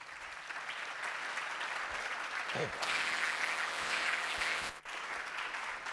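Sustained applause from a large audience, a steady wash of clapping that swells slightly midway and carries on throughout.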